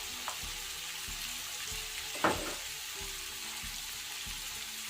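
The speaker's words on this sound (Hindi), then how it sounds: "सबसे पहले इसमें प्याज डालेंगे।" Onion is dropped into chicken frying in a pot for chicken pulao, producing a steady, moderate sizzle with one brief louder burst partway through.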